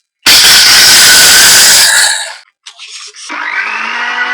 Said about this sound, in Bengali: এবারে আমি এটা মেশিনে গ্রাইন্ড করে নেব।